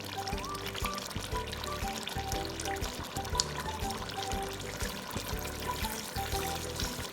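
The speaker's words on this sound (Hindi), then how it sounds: "ये देखिए हमारा यहाँ पे हम थोड़ा सा दूध डाल देंगे इस पर, तकरीबन 4 से 5 टेबलस्पून के करीब।" Milk is poured into a pot of degi-style beef korma, giving a steady low liquid pour that runs continuously over kitchen background noise.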